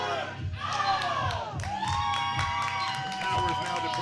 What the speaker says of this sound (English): And the crowd's saying his catchphrase.